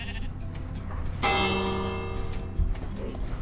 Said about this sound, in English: the bell will ring.